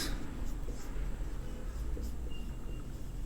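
Marker or chalk strokes on a classroom board during a physics lesson, a quiet run of scratchy, rhythmic writing sounds over a low background hum.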